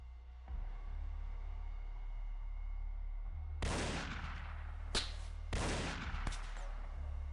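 Assault cannon fire in the video game X-Com Files: after a quiet hum, a few sharp bursts of gunfire crack out in quick succession, faint overall and with no talk.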